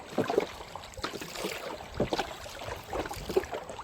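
A wooden boat is rowed through a tidal creek in the Sundarbans mangrove forest, with repeated soft splashes and knocks of the oars at an uneven rhythm over quiet water and a faint outdoor hush.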